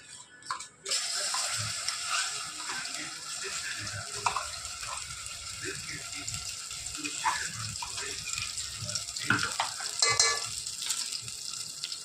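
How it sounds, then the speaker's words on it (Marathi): Masala spices fry and sizzle in hot oil for a country-chicken curry, a steady crackling hiss with occasional stirring scrapes and clatters, close and continuous for about twelve seconds. "तेल गरम झालं आता टाकत आहोत मसाला"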